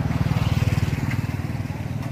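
A diesel engine on a Kamast L4 mini combine rice harvester runs close by with a rapid, throbbing low chug that is steady and fairly loud.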